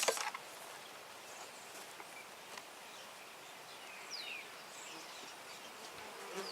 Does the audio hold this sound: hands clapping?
no